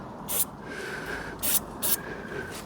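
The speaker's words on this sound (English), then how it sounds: "give that a clean off with your brake spray" Brake cleaner hisses onto a Smart ForTwo's car brakes in three short, bright spray bursts spaced apart, close and crisp over a faint background hum.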